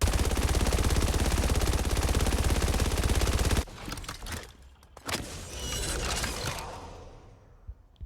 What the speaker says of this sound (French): regardez cette animation de rechargement quand je tire toutes les balles